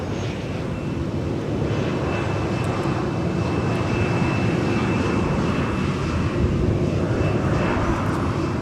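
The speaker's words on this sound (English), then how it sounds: "that Sun Country flight just arriving from Dallas-Fort Worth International" A Sun Country jet airliner arriving from Dallas-Fort Worth at Minneapolis–St. Paul airport rumbles loudly and steadily throughout, a close, sustained engine roar with no talk.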